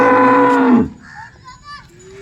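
A cow lets out one loud, close moo at a cattle market. It is followed by faint background voices and crowd noise.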